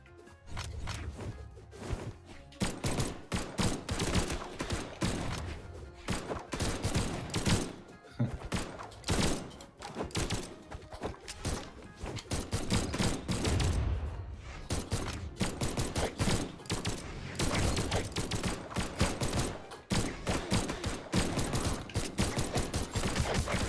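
Pistol shots in the fighting game Brawlhalla, a dense, nonstop barrage of sharp game sound effects with rapid bursts and mechanical clatter running loud throughout.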